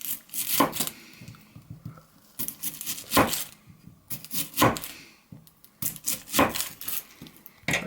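A Mora Classic No.2 knife cutting through an onion, a few separate crisp chopping strokes spaced a second or so apart, close and fairly quiet, with no talking.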